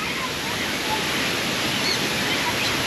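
Steady broadband rush of a waterfall at Bird Paradise, a bird park in Singapore, continuous and fairly close, without words.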